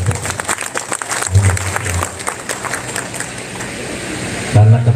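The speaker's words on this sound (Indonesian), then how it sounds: "Beri tepuk tangan untuk beliau" Applause from an audience at a Nahdlatul Ulama gathering in Karawang, a crackling patter of many hands with some crowd noise and low thumps, easing off toward the end.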